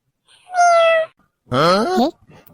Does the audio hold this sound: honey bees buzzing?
no